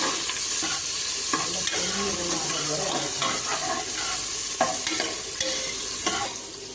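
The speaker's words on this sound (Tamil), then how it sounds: "வெங்காயம் மிளகாவும் போட்டுக்கோங்க. நல்லா கிண்டுக்க போட்டு" Onions and chillies frying for biryani are stirred in a pan: a loud, continuous hissing sizzle with frequent scraping strokes from a utensil, close up, with little or no talk over it.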